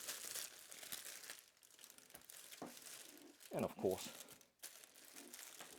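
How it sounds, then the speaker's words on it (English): Crisp crinkling of a clear plastic bag wrapping a mini ceramic fan heater being handled up close, in bursts, with someone speaking briefly at the start. "undo the clear plastic bag that's keeping the fan heater packaged"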